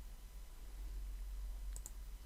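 A mouse click on the microphone button for voice typing in Google Docs: two quick, crisp clicks close together near the end, over a low steady hum.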